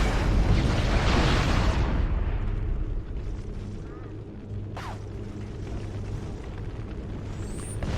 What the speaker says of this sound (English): I was gonna try to shoot them through the wall, but then they blew up